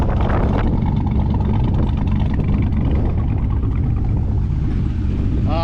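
An untuned Chevrolet C5 Corvette engine runs steadily at idle, a loud, dense, continuous rumble close by with no talking over it.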